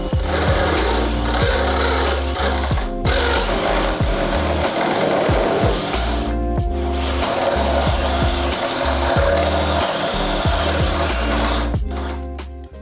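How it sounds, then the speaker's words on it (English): A 5/8 hole being drilled in an aluminum tire carrier part with a step bit on a Sprinter van, a loud continuous grinding whir with rhythmic rattling bursts and two short pauses, fading at the end. "You're gonna drill this outside one to 5/8."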